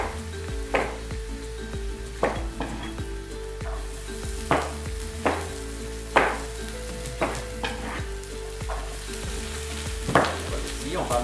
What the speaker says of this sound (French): on va couper les tomates en 4, puis on va les mettre sur la panne